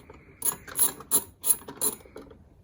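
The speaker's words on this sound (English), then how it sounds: "I have my socket wrench here. I have a 7mm socket." A ratcheting socket wrench with a 7mm socket backs out a small bolt on a 2016 Chevy Traverse tail light, giving five close, crisp bursts of rapid clicking with brief pauses between.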